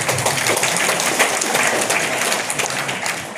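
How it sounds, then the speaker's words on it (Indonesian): A crowd at a public gathering claps steadily in a dense burst of applause, fairly loud and continuous throughout. "Tepuk tangan buat yang baik."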